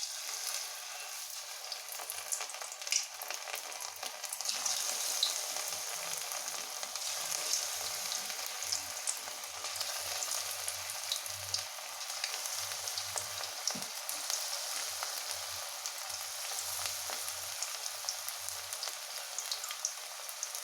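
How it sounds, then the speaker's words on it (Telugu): Masala-coated cauliflower deep-frying in hot oil for a street-style fry, giving a continuous, fairly faint crackling sizzle with light spattering pops throughout and no talking. "ఇప్పుడు మనం వేడెక్కినటువంటి ఆయిల్లోని ఫ్రై చేసేయాలి"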